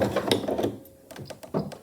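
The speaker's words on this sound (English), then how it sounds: "Now I'll sew the pockets down, and I'll still use this gold thread" A sewing machine stitches down the pockets of a reversible tote bag in gold thread, giving short, close bursts of rapid mechanical clatter broken by brief pauses.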